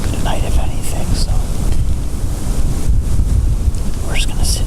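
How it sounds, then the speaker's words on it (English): Steady wind buffets the microphone outdoors at a spot where someone waits until dark, a continuous loud rumble with gusting surges throughout and no speech. "It's pretty windy, so I'm not sure what will be able to move tonight"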